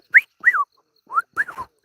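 A person whistles two short bursts, pauses, then repeats a similar rising-and-falling whistled phrase, mimicking a bird call with clear breaks between notes.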